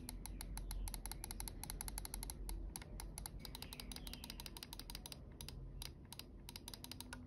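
The side buttons of a Kysona M511 mouse click in a quick, irregular series of sharp, crisp taps, close and fairly quiet, continuing steadily for several seconds without speech.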